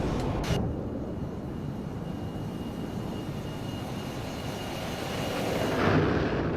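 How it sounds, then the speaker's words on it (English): Simulated ERJ regional jet doing a flyby in X-Plane 12, a steady broad engine roar that swells slightly near the end, with no talking. "Let's look at the flyby again."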